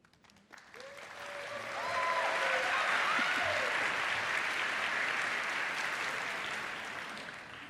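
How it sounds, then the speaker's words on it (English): Audience at a university event breaking into applause, the clapping swelling after a second or two into a sustained, dense wash that slowly eases, with a few cheers and whoops heard early on. "I don't usually get such a nice applause from you guys."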